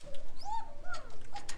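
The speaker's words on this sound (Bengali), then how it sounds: "এত সুন্দর ডাক ডাকতেছে, আপনার ডাকের শব্দটা বুঝতে পারছেন।" Lahori Sirazi pigeons on a farm cooing, close by, with several soft, rolling coos and short gliding calls in quick succession.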